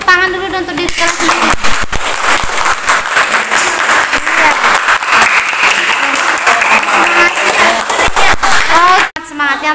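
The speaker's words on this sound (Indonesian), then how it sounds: "tepuk tangan dulu dong untuk diri kalian" A class of Indonesian madrasah students in Lombok applauds themselves during an English lesson, loud continuous clapping with voices mixed in, fading out abruptly near the end as a voice returns.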